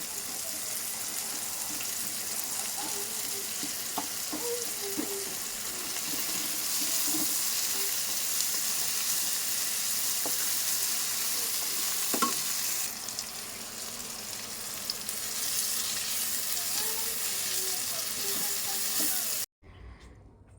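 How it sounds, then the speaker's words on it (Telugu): Two or three garlic cloves frying in a pan at home, a steady broadband sizzle with stirring clatter throughout, running continuously before cutting off abruptly at the end. "ఇప్పుడైతే నేనైతే ఒక 2-3 వెల్లుల్లి రెబ్బలు వేసుకుంటున్నాను."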